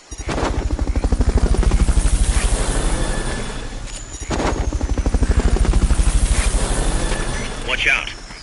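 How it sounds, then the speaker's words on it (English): A helicopter in the video game Metal Gear Solid: Peace Walker, its rotor thumping in a steady loud chop that dips briefly midway, then resumes, with game noise and a faint voice at the end. "Fulton recovery subject confirmed onboard helicopter"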